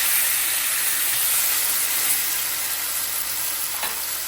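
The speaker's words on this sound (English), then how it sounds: "Lay your meat inside just like that. Let it sear." Beef searing in a hot pot for pot roast, a loud, even sizzle and hiss filling the whole stretch up close, with no voices.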